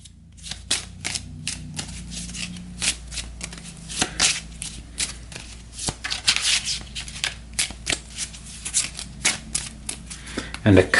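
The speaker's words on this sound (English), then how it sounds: "We'll give this a shuffle." A deck of referee cards for a tabletop boxing game gets shuffled by hand, a long run of crisp riffling bursts and card slaps with a voice talking over them.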